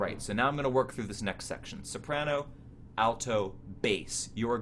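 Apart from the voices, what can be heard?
No everyday noises stand out.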